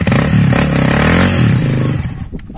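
A trail motorcycle engine on a mountain dirt route revs hard and close with a loud, buzzing, strained note, then drops away near the end.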